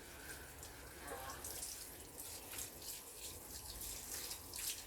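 Tap water runs steadily at a low level while a cat is bathed indoors, a soft continuous splashing and hiss with faint talking now and then.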